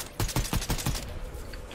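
Rapid bursts of gunfire during a ranked Fortnite squads match crack out loud and close in a fast, uneven volley, then drop away into fainter shots.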